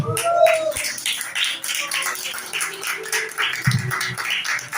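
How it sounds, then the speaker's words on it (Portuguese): A church congregation claps together in a steady round of applause, a dense, continuous patter of hands filling the room at fairly close range, with a voice speaking faintly underneath. "Quem está feliz com Deus, dá uma salva de palmas."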